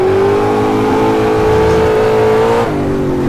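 Ultima GTR sports car engine under a light throttle blip, a loud, close, steady rev that holds and then drops back briefly near the end, no talking.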